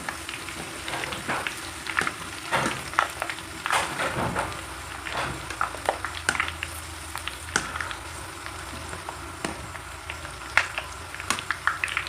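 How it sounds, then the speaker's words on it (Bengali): Curry leaves fry in hot oil, giving a faint, irregular crackle and pop with scattered sharp spits over a quiet background. "এই কারি পাতাগুলো ভেজে নেব একদম গরম তেলে"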